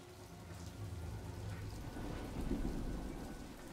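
Steady rain pours during a fight scene in a fantasy drama series, a dense hiss with low rumbling underneath that swells slightly toward the end.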